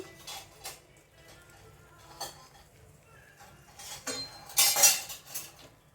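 A metal utensil scrapes and clinks against a pan while food is scrambled, in irregular close-up taps and scrapes with a louder cluster of clatter near the end, no voices.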